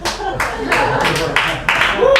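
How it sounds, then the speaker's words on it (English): Audience applause at a standup comedy show in the Leche Lounge, several bursts of clapping rising and falling over about two seconds, fairly close and loud with a voice mixed in. "Look at you, clapping."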